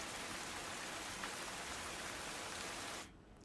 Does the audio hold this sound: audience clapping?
no